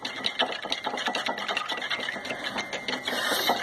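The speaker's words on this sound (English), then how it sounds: "I'm just going to try to whisk it in as much as I can to get all the little clumps" A bamboo matcha whisk beats premium matcha green tea powder in a bowl, a fast, steady scratchy swishing that goes on without pause and sounds close and moderately quiet.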